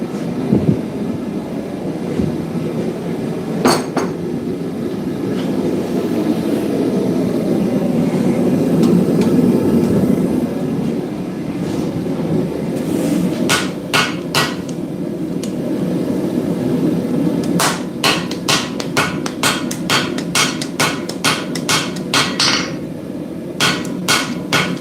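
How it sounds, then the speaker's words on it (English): Hammer blows ring on hot steel while a kiridashi is forged, a few isolated strikes at first, then fast, regular runs of sharp, loud hits over a steady roaring forge background. "One more heat and then I'll weld it."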